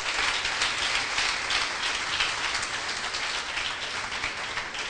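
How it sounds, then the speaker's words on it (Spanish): A church congregation applauding together, a dense, steady wash of clapping that holds loud and even throughout with no voices on top. "Den un aplauso fuerte al Señor"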